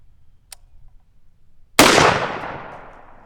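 A single sharp gunshot from a rifle with a 10-inch barrel firing Max Tech steel-cased ammunition cracks loud and close, then rings out in a long decaying tail after a brief faint click.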